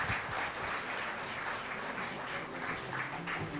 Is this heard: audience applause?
yes